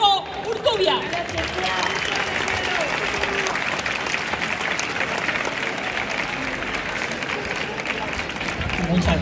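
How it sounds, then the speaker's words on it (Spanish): A crowd at a town festival proclamation in Morata de Jalón applauds steadily for several seconds, a broad continuous wash of clapping with a voice briefly audible at the start. "démosle un fuerte aplauso con agradecimiento"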